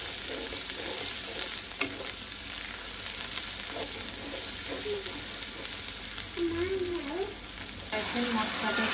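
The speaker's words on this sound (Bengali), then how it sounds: "এবার আবারও মশলাটাকে আর একটু ভেজে নেব।" Spice paste with turmeric and chili powder frying in a pan, a steady low sizzle with occasional stirring scrapes, while faint voices and background sounds murmur in the distance.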